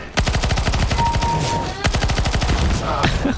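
Rapid bursts of automatic gunfire ring out in a CS:GO match, with two sustained strings of tightly spaced shots separated by a short pause. The shots are loud and close, with no speech over them.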